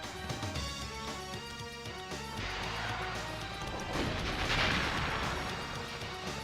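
Explosions from the Blast Corps video game, heard as crashing blasts over game music, with a louder burst of destruction in the middle of the clip.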